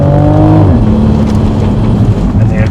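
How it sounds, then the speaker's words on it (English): New Toyota Supra accelerating on the road, a loud, steady exhaust drone rising in pitch early and holding close through the cabin, with no talking over it. "And the exhaust note I'm not used to"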